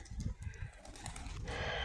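A pair of white pigeons coos softly and close by, short low calls repeating over faint background noise.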